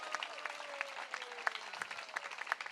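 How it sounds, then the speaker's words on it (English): Audience applause at a Kartik parikrama gathering, a steady patter of many hands clapping, moderately distant and fairly soft, with no talk over it. "So let's give her a little round of applause again."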